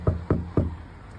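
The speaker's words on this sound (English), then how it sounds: "Maybe give it another knock." Three firm knocks on a door at a roadside, evenly spaced about a quarter second apart, close and fairly loud, followed by quiet.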